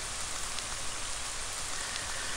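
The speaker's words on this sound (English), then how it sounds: "And now it starts raining for real." Steady rain falls in the video game Ib, a dense, even hiss of drops on surfaces that stays constant throughout with no voices.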